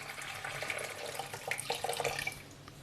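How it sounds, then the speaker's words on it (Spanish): Tap water pours into a cooking pot, a bright splashing, gurgling stream with irregular drips and spatters that rise toward the end, close and alone without talk. "Ponemos el agua."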